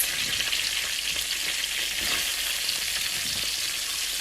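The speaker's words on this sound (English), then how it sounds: "Now in the same pan, I'm going to throw in the onions and potatoes and saute those for 3 to 4 minutes." Onions and potatoes sautéing in a pan give off a steady, dense sizzle that holds close and loud from start to finish, with faint scraping and stirring just audible beneath it.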